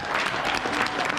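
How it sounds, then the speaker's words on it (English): Audience applause at a UK event of a United Nations expert working group, full and sustained clapping from a crowd with a faint voice mixed in. "Another round of applause."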